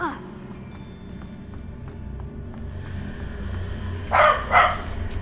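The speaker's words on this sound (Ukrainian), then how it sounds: "Собака." A dog barks twice in quick succession near the end in the video game Hogwarts Legacy, the loud barks rising over steady game ambience, with someone talking in the background.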